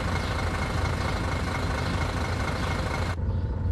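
A MAN Lion's A26 bus diesel engine idles steadily at close range with a dense low rumble, then the high-end hiss drops away near the end as the motor keeps running.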